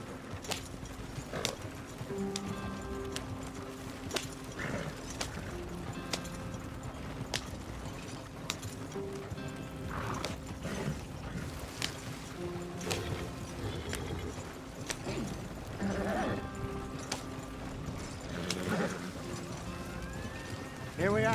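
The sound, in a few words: horse hooves galloping, from video game Red Dead Redemption 2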